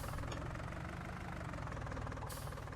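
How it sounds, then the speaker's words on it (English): A tractor engine idles in the video game Farming Simulator 19, a steady low rumbling drone that stays loud and continuous for the whole moment with no talking. "So actually we need to move the tractor back,"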